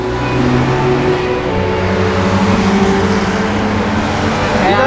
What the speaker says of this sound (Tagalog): Yan ang mga sasakyan dito.